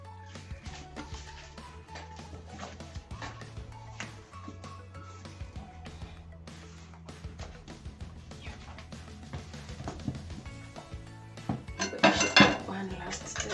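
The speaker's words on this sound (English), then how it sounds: "Then I'll finish the mixing with a spatula." Carrot cake batter mixed with a spatula in a bowl, soft irregular scraping and knocking against the dish for over ten seconds, with louder clinks of utensil on bowl toward the end, faint voice at times.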